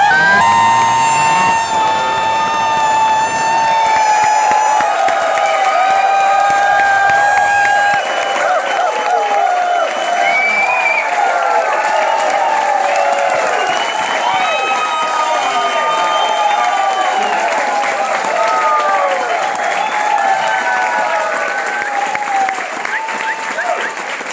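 Large seminar audience applauding and cheering for a motivational speaker, loud sustained clapping mixed with whoops and high shouts for the whole stretch, steady and dense from start to finish.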